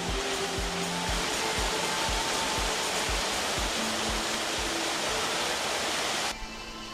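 A wild mountain waterfall pours down a slope with white water feeding a stream, a loud, steady broadband roar that holds constant and ends abruptly near the close.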